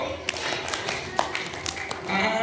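Children at an Isra Miraj religious gathering clap a short counted pattern, with scattered sharp hand claps over a murmur of voices and talking throughout.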